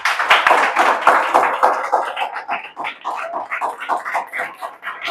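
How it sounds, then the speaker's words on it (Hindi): Students clapping in a class nine physics lesson, a burst of sharp, uneven hand claps close by that thins into scattered taps, with no talk over it. "इसके लिए ताली बजा दीजिए उसके लिए।"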